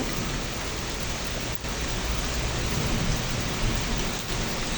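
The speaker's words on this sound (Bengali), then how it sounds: "এখন অনেক বৃষ্টি পড়তেছে" Heavy rain pours down steadily during a storm, a dense continuous hiss with no voices, broken by a couple of brief dips.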